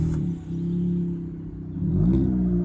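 A 2007 BMW Z4 sports car engine idling with a deep, steady burble, then revving up near the end, heard close and loud without any talking.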